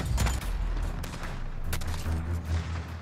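MK2 Carbine fire in the video game Modern Warfare, a string of sharp individual shots over dense, continuous game noise with low rumble throughout.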